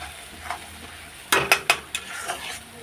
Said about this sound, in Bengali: এটা আগে কষিয়ে নিই কিছুক্ষণ।